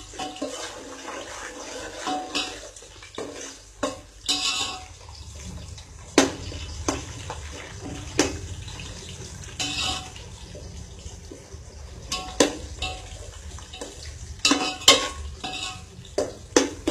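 Onions sautéing in a pan come through as a soft, steady sizzle, broken by repeated scraping and clinking strokes of a spoon stirring at an irregular rhythm, close by and moderately quiet.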